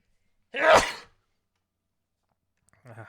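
A single short sneeze, sharp and fairly loud, followed by a long silence and then the start of a voice at the very end.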